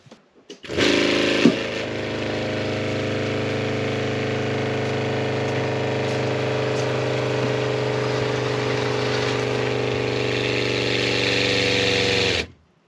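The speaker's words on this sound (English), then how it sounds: "I'm going to turn the pump back on and purge it out, see how it goes." An RV water pump, model IRVWPC2, starts up after being switched back on and drones with a steady mechanical hum and buzz, loud and close, running unbroken for about eleven seconds before abruptly stopping.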